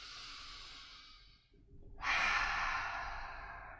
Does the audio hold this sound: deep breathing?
yes